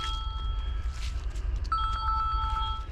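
A telephone rings in a room, a steady electronic tone first and then a rapid trilling ring pattern that carries on to the end, moderately loud over background noise.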